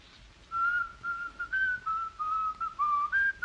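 A single person whistles a short melodic tune, a clear close line of sustained notes and small pitch steps over a quiet room.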